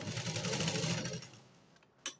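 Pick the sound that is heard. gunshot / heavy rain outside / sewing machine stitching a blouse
sewing machine stitching a blouse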